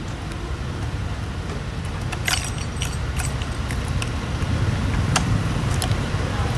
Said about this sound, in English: that truck is making a lot of noise.